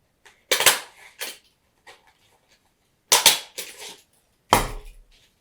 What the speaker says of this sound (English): I will staple it.